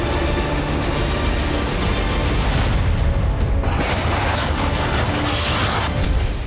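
A Kinzhal hypersonic missile striking the ground, a heavy, dense rumbling roar of blast noise that swells and stays loud throughout, with no speech over it.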